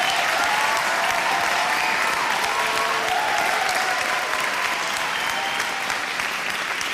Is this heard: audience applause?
yes